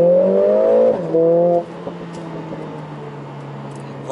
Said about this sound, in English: Test drive of the Mercedes-Benz A45 AMG S with 421 horsepower and 500 Newton meters of torque.